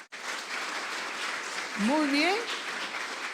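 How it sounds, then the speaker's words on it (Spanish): A church congregation applauds steadily, a continuous wash of clapping heard from among the crowd, while someone speaks briefly over it partway through. "Yo quiero pedir a la congregación que le dé un fuerte aplauso a todos los oyentes."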